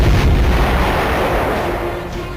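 An explosion at the naval dockyard in Colaba, Mumbai, near the submarine INS Sindhurakshak, comes as a loud, deep rumbling boom that rolls on and slowly fades.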